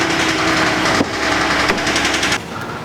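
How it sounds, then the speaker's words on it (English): A GMC Acadia engine idles with a fast, loud mechanical tapping from the cam phasers, a dense rattling clatter close up that runs continuously and drops off as the engine shuts down near the end. "So you can hear that tapping. It's probably the cam phasers would be my guess."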